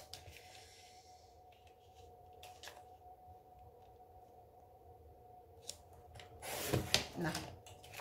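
Scissors cut a strip of scrap paper for gift tags near the end, a brief close run of crisp snips after quiet rustling and faint handling noises.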